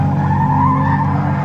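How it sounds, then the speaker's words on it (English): An Infiniti G35 sedan drifts at a track practice session, its tires screeching in a steady, loud, sustained squeal over the strained engine note, close and continuous with no talk. "There's nice drifts right"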